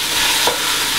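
Sausage chunks browning in a pot for a zucchini and sausage stew give a steady close sizzle with a soft stir sound in the middle, with no voices.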